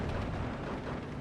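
Dense rumbling of 114mm artillery and mortar fire in the wargame Steel Division 2, a continuous low roar of distant explosions blending together without clear separate impacts.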